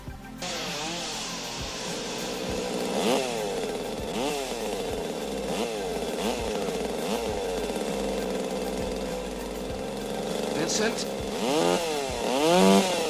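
Chainsaws snarl and rev repeatedly in a film fight scene, engines rising and falling in pitch through a long stretch, with a brief shout over the roar.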